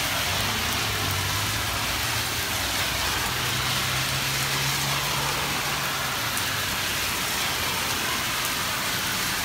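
Steady heavy monsoon rain pours down nonstop in Big Bear Lake, California, a dense broadband roar with a low engine-like hum running underneath.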